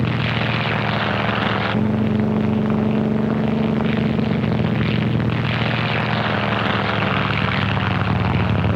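Propeller warplanes of Task Force 58 roar loudly and steadily overhead during an aerial assault on Kyushu and the Japanese home islands, a dense continuous engine drone with shifting pitch and no voices.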